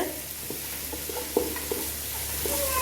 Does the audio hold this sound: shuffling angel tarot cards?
no